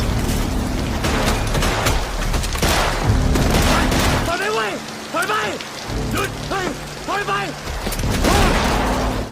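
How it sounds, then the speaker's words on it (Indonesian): Wild gunfire from a Thai action film cracks in rapid, uneven bursts over a dense rain-like hiss, with a few clustered volleys in the middle and a low rumbling bed beneath. "Po melepaskan tembakan secara membabi liar ke arah Num dan Jaka"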